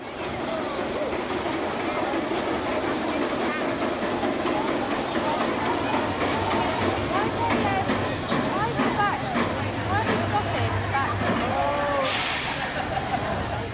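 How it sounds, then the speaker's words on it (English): The Big One roller coaster train at Blackpool Pleasure Beach rolls along with steady rumbling and metallic squeals, air brakes hissing as it slows to a stop; voices chatter faintly in the background. "The big one's train coming to a controlled stop at 50 foot will occasionally happen"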